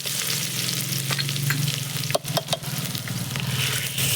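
Garlic hits hot oil already holding mustard seeds and cumin, giving a loud, close, continuous sizzle with crackling pops and a few spatula scrapes midway.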